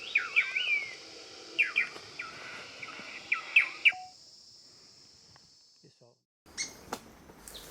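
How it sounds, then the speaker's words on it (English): A small white-throated spadebill in Atlantic Forest gives repeated high, thin chirping calls in short bursts during the first four seconds, fairly close, followed by near silence and then a few scattered faint notes. "All this commotion drew in a little white-throated spadebill."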